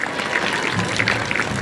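Crowd at a Little League opening day gathering gives broad applause and cheering for a volunteer named Steve, a dense steady wash of clapping with a few raised voices, fairly close and continuous.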